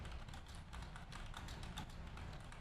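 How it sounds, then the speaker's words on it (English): Light, rapid clicks from a computer mouse and keyboard during a search, quiet and close, in an irregular run over a low room hum. "I hear you clicking it."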